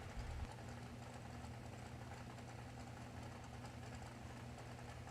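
A dragster engine idles at a bracket drag race, a steady, rough, faint low rumble with a slight knock that runs unbroken throughout, after a brief louder thump at the start, and nobody speaks.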